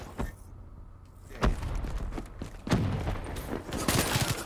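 Gunfire in the Black Ops 3 beta on Xbox One, a dense stretch of rapid shots and clattering impacts, some close and loud, with mechanical clicks between bursts.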